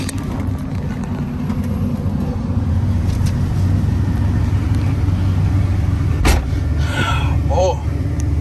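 A 1985 Chevrolet Monte Carlo SS driving on the road with new tires, a steady engine and road rumble from inside the car, with a sharp knock near the end.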